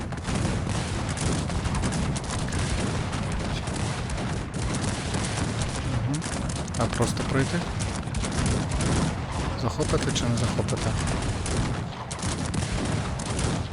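Cannon fire and gunfire from a Cossacks 3 battle in the England campaign, a dense continuous roar of volleys and booms, with someone talking over the fighting.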